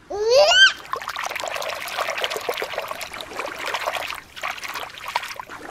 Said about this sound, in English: Let's put the lobster back in the water.